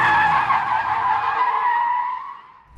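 A car's tires screech in one long, loud skid that holds steady and then fades out toward the end.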